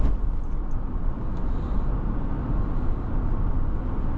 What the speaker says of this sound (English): that V8 sounds amazing